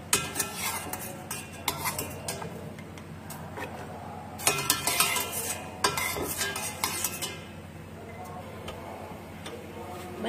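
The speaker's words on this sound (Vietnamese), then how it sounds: "Bây giờ các bạn sẽ đi quấy bánh nhé" Rice flour batter for bánh đúc, with peanuts added, is stirred in a pot with a utensil, giving a steady scraping and clinking rhythm with sharper bursts, close and continuous without talk.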